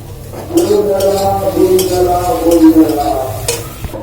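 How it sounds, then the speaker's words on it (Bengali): Potatoes, onions and green chillies fry in a pan, giving a steady sizzle broken by the scrape and clatter of stirring, while a voice murmurs faintly in the background. "এই যে এখন আমি আলু পেঁয়াজ আর কাঁচা লঙ্কাটাকে ভালো করে ভেজে নিচ্ছি"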